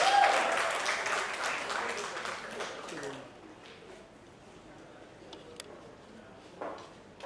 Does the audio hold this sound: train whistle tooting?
no